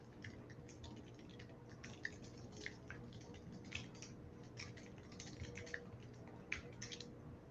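Steady typing on a computer keyboard, with soft, rapid key clicks running continuously over a low background hum, close and fairly quiet, with no voices.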